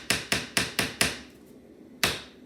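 A small Harbor Freight hammer strikes five quick, sharp blows in a steady rhythm, then one more after a pause, close and crisp while building a DIY Christmas sign.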